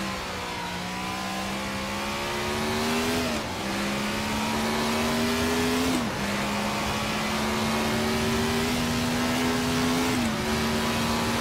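Grand Prix Legends race car in Assetto Corsa, engine pulling hard through the gears with a faint transmission whine, each long rising rev broken by quick upshifts, loud and continuous with no talk.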